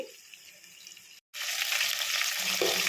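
Tomatoes for chicken curry stew and sizzle in a pan, a steady close hiss that breaks off for a moment and then comes back louder and fuller, with no talking.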